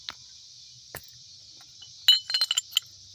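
Several sharp clinks of thick old glass pieces knocking together while found bottles and cups are handled at a dump site, a quick cluster of chimes after a couple of isolated taps.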